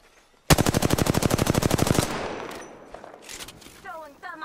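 Automatic gunfire in the Apex Legends video game: a rapid, evenly spaced burst of about twenty loud shots lasting around a second and a half, followed by fading echoes and scattered quieter game sounds.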